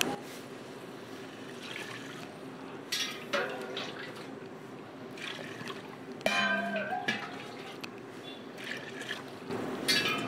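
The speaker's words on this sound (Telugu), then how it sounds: "ఇప్పుడు కావలసినంత వాటర్ పోసుకుంటున్నాను." Water being poured into a pot of mutton biryani masala for Dindigul thalappakatti biryani, with trickling, dripping sounds and a few clinks of utensils close by.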